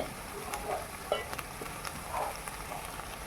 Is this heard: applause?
no